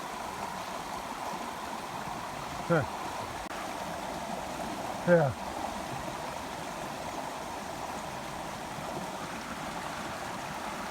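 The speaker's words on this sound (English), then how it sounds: "I think it's the water flowing over that log." Floodwater rushes over a log in a pasture swamped after eight inches of rain, a continuous close gurgling stream. Two brief voice interjections sit on top of the flow.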